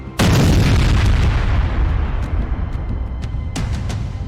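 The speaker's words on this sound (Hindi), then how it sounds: "एक धमाका" A missile blast destroys a weapons depot in war news footage, a sudden loud booming explosion that rolls on as a long rumbling roar with crackling debris and a few sharp pops afterward, no speech.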